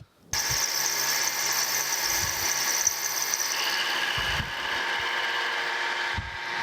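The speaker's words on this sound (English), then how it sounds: "I think we've got the milling done on this part" A horizontal milling machine cutting a slot in steel slide keys for a Wadkin table saw fence, a steady high whine with a few low thumps, loud and continuous after a brief start.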